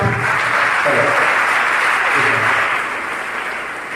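An audience at an International Women's Day celebration in Allagadda claps loudly for women police officers, dense applause that holds steady, then eases off toward the end.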